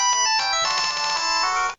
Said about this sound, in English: Rob, I think the phone's ringing.